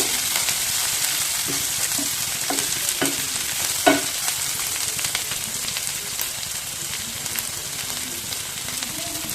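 Tomato rice ingredients fry in a pan, a constant sizzle with scattered scraping stirs and one sharper clink, close and steady without talk.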